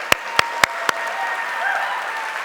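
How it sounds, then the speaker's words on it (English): Audience applause at a student film festival showcase, a steady crowd clapping wash with a few sharp, close individual claps standing out at the start. "Keep clapping for all the schools and the instructors who've been here all along with us all through these years."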